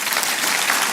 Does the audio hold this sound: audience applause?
yes